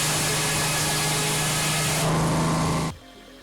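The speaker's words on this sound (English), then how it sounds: "Frick sawmill that can create beautiful thin wooden slates." A loud, continuous Frick sawmill blade whines through wood, cutting thin slats, for nearly three seconds, close up and steady, then cuts off abruptly, leaving faint background noise.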